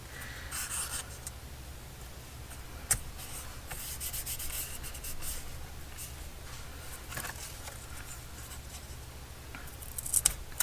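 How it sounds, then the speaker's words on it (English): Soft, steady rubbing and rasping scrapes as an edge is sharpened in a journal-making craft setup, faint and close with scattered small taps and no speech. "I just want to sharpen the edge a little more"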